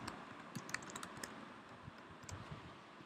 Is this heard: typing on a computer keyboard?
yes